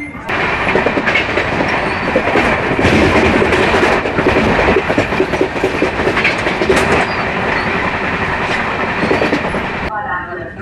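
An express train rolls into Thanjavur Junction with a loud, continuous rumble and steady clickety-clack of wheels over the rails, close by and sustained for about ten seconds before dropping away.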